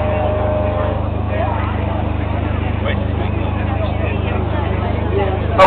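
A large Extra 3D aerobatic model aircraft at an LMA air show at Much Marcle sends a steady, loud engine drone through a low wheel-by pass. The drone runs continuously, with commentary spoken over it throughout.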